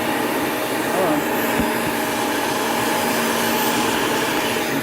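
A Shark vacuum cleaner runs at full suction with a steady loud whooshing whine close by, continuous throughout, while a person speaks briefly over it.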